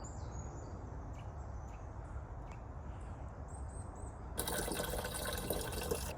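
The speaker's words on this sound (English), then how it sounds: "While I'm just filling the watering can for our little reflection pool" Water runs steadily into a watering can at a garden bird hide, a low continuous splashing fill that turns brighter and louder near the end, with birds chirping faintly.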